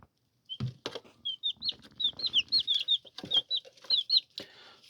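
Young chicks, about eleven days old, give a string of high peeping chirps close by, rapid and repeated with little gaps, mixed with a few soft thumps and rustles from the brooder.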